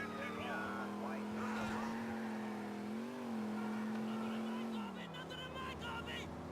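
Car engine in GTA IV, steady droning motor tone that rises slightly and then drops, loud and continuous with game background sound underneath.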